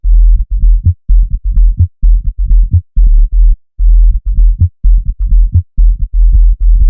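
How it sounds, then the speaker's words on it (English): Sad bass synth built in FL Studio's 3x Oscillator, playing loud, deep pulsing notes in a steady repeating rhythm with short gaps between phrases and little high-end content. "The sad bass was made in 3x oscillator, and it would sound like this."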